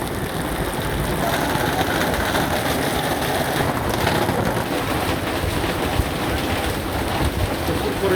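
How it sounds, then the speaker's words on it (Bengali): Heavy rain pours on Bishoykhali bazar market street in Jhenaidah, a dense, unbroken hiss of drops with a low engine-like rumble beneath, steady throughout. "পরিমাণে বৃষ্টি হচ্ছে"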